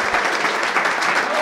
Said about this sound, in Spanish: ¡Fuerte el aplauso, hombre!